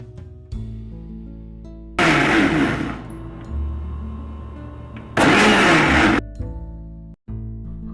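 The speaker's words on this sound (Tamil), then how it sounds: "இது எல்லாத்தையும் சேர்த்து மிக்ஸி ஜாரை கொஞ்சம் கொஞ்சமாக நம்ம பல்ஸில் வச்சு கொஞ்சம் கொஞ்சமாக மிக்ஸ் பண்ணணும்" Mixer grinder pulsing eggless mayonnaise ingredients in its jar: two loud bursts of roaring motor, each about a second long, separated by quieter stretches of background hum.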